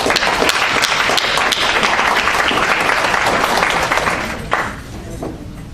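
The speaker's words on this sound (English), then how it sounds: "Let's give it to them a round of applause." Loud, dense applause from a graduation ceremony audience, continuous clapping that tapers off near the end as a voice begins.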